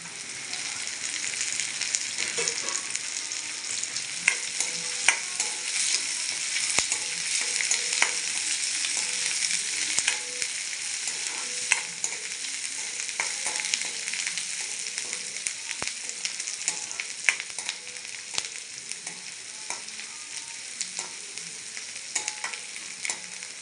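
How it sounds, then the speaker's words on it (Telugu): Onions and curry leaves sizzle and crackle in hot oil for a masala dish, a continuous close frying hiss broken by the scrape and clack of stirring throughout. "ఇలా ఫ్రై అయితే సరిపోతుందండి. మరీ ఎక్కువ ఫ్రై అయినా అంత టేస్ట్ ఉండదు."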